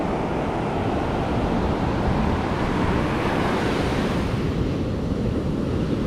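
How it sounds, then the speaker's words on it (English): Ocean surf rolls steadily onto a beach on a surfing morning, a loud, continuous wash of breaking waves mixed with wind rumble, with no voices. "those waves were kind of killer this morning"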